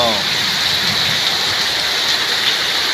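Heavy rain pouring down under dark, cloudy skies, a loud, dense and unbroken hiss of drops hitting surfaces that fills the whole stretch at an even intensity.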